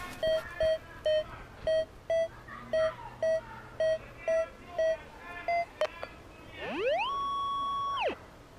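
A metal detector searching for gold in Crimea gives a string of short, evenly spaced beeps, then a rising tone that holds steady and falls away; faint background noise underneath.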